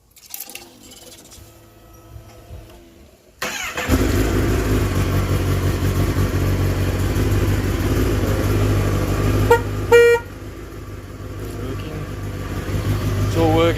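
A ZX10R motorcycle with a newly fitted horn, trimmed to clear the shock absorber and triple tree, idles steadily; late on, the horn gives a couple of short, loud honks over the engine.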